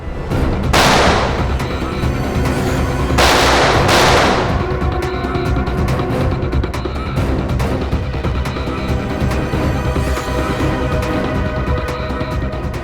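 Gunfire in a Hindi TV crime drama shootout, with two loud broadband blasts near the start followed by a dense, continuous bed of clattering action noise and music.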